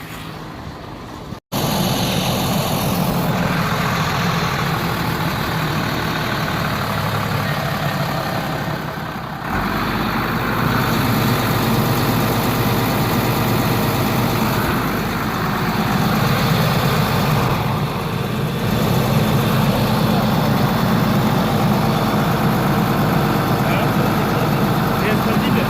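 A Hino diesel truck engine with a crankshaft bearing and connecting rod fault runs steadily at a deep, loud drone, with the rumble continuing unbroken throughout.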